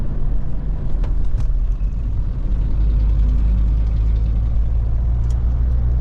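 A car engine droning loud and close from inside the vehicle while overtaking on a road, a steady low rumble that swells slightly partway through, with no talk.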